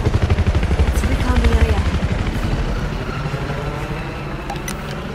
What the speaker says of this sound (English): Watch out! Incoming helo!